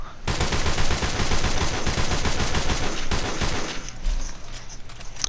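Rapid semi-automatic M14 rifle fire, a dense string of close, loud shots cracking in quick succession for several seconds before tapering into a few scattered rounds.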